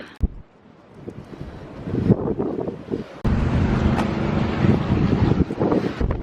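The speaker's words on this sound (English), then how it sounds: "Certainly is a windy day." Strong wind buffets the microphone in loud gusts, rumbling and roaring, growing heavier halfway through.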